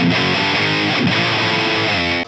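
High-gain electric guitar played through a Jensen neodymium speaker, dense and heavily distorted with a full low end and strong mids, sustained and loud throughout with no talking.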